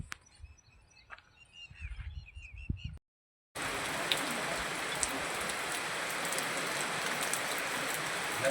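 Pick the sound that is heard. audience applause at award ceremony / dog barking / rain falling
rain falling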